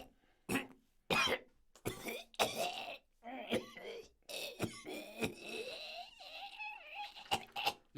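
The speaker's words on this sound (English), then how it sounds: "he's coughing blood" Repeated harsh, wet coughing fits of a man coughing blood, close and loud, broken by strained gasps and groans between bursts.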